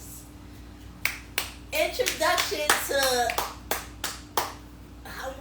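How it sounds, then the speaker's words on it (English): Audience applause for a speaker at a lupus awareness talk show: scattered bursts of hand clapping, a few sharp individual claps followed by a denser patch of clapping, with speech among them. "Let's clap for Cousin"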